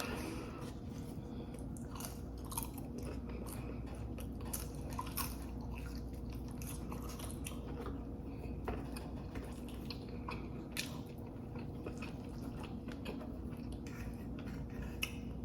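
Close, steady eating noises at a breakfast table, with small crunches and bites of French toast made from whole grain bread, continuing for the whole stretch at a fairly even low level with no talking.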